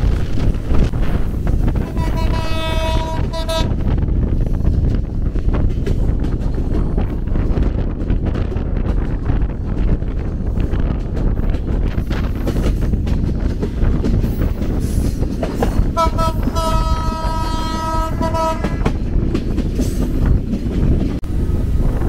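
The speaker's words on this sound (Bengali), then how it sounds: "আমাদের ট্রেন ছুটে চলেছে তার দুর্দান্ত গতিতে।" The Madhumati Express races at full speed through Bangladesh near Bheramara, giving a loud, steady rumble and wind roar throughout, with two long horn blasts, one early and one later.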